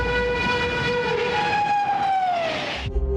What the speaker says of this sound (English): with 200 miles to go, the train tore past